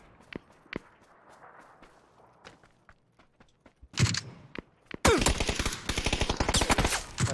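Video game gunfire: scattered single shots give way to a loud burst and then dense rapid automatic fire, crackling close and continuous to the end.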